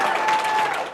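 Studio audience at a comedy game show applauds to vote for a contestant, a dense sustained burst of clapping and cheering that holds steady for about a second before easing off.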